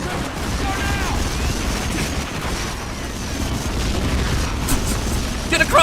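Dense, continuous machine-gun gunfire and booming explosions in a PlayStation 2 war video game, loud and unbroken across the whole stretch, with shouted voices mixed in.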